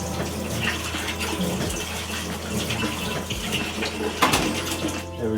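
Tap water runs steadily from a kitchen faucet into a sink, a continuous close splashing gush with a few clinks partway through.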